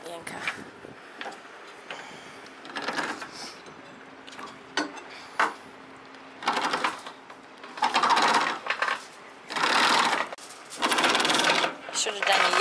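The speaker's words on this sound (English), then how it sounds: "Hauling up the anchor." An anchor is hauled up on a boat off Menorca, with bursts of rattling, clinking chain in uneven spurts separated by quieter pauses, and close ticking clicks throughout.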